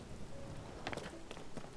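Rain falls in Zelda: Tears of the Kingdom as a steady patter of drops over a soft wash, with scattered brief louder taps from game actions, and no talking.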